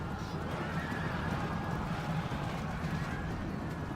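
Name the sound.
horses neighing and galloping in Rome: Total War video game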